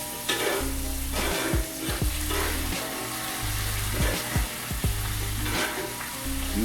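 Filet mignon frying in a pan of salted European butter with rosemary, a steady loud sizzle and crackle running throughout, broken by repeated clinks and scrapes as a spoon bastes butter over the steak.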